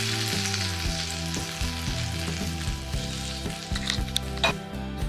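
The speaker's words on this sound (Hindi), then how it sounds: "और इसमें देंगे हम थोड़ा सा तड़का" Hot tadka tempering with chili powder sizzles and crackles loudly in a pan for Punjabi-style kadhi pakoda, a dense frying hiss with occasional stirring clatter, while background music plays and no one talks.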